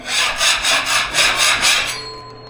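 A sanding block scrapes over a sanded wooden surface during a DIY bathroom renovation, making about six steady back-and-forth rasping strokes up close. The strokes stop abruptly near the end, leaving only quiet room tone.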